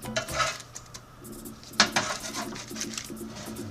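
Oven-baked plantains are flipped with a utensil on a baking tray: light metallic scrapes and clinks, with one sharper clatter in the middle, close and fairly quiet.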